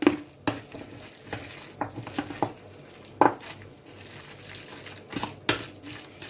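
A spoon scrapes and clinks against a frying pan while flour is stirred and softly sizzles, with sporadic sharp taps.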